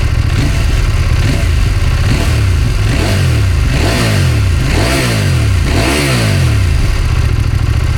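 A 2025 CFMOTO 800MT-X motorcycle engine revs repeatedly, pitch climbing and falling in several loud surges over a steady throaty idle, close by.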